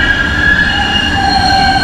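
A Boston subway train passes beneath the street, a loud continuous rumble with sustained high wheel squeal and tonal whine throughout, heard alone without voices.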